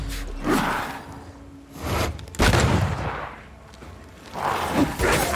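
Gunfire in the video game Banishers: Ghosts of New Eden: a few heavy, booming shots spaced a second or two apart, loud and close, with a low rumbling tail after each.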